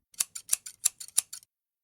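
Quick, crisp snips of scissors cutting, about nine in a rapid run, close and clear against silence.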